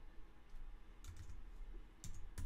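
Keystrokes on a computer keyboard while searching a node library in animation software: a few faint clusters of clicks, soft and close, over a quiet room hum with no talking.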